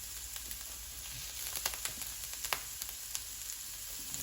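Italian sausage starts to sizzle in a pan as a soft, steady hiss. Scattered sharp pops and crackles stand out, and nobody speaks.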